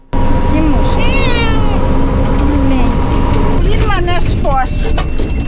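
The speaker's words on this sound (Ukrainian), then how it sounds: "З собою бере кота Тимофія." A cat meows repeatedly during a wartime evacuation near the Russian border in Sumy region, a series of close, insistent cries over a constant loud vehicle engine hum.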